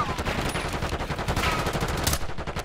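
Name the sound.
gunfire in a video game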